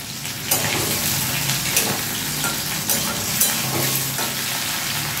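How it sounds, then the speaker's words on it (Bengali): Potatoes fry in hot oil in a pan with a steady, close sizzle, and occasional stirring scrapes and clinks of a utensil punctuate the continuous crackle. "প্রথমে আলুটা ভেজে তুলে নেবো।"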